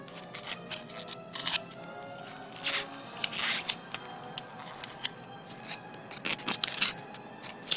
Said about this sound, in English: I'll use something else sharp, like my rounded file right here, to grab and tear out some areas